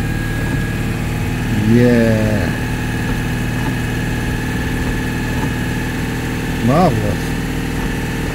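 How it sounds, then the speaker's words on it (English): A Citroën 2CV's small engine idling steadily, rising in two brief revs, one early and one near the end, while people speak briefly over it. "So give it a few more revs, really get the wipers going."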